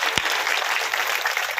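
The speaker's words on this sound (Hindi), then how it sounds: "जोरदार ताली है।" Worshippers at a devotional scripture recitation clap loudly together, a brief, dense burst of crowd applause that stays strong and even throughout, with one sharp low thump near the start.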